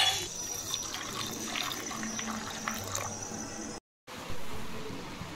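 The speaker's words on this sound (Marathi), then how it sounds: "मी इथे 1 वाटी काजू गरम पाण्यात भिजत टाकते" Hot water poured into a bowl of cashews for soaking, a steady splashing stream that cuts off sharply and then resumes, heard alone at close range.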